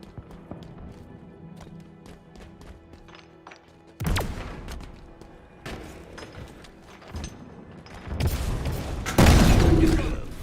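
A frag grenade goes off in a Halo Infinite multiplayer match. Sharp booming blasts break out over game noise and footsteps, and a heavier burst of explosion and debris follows near the end.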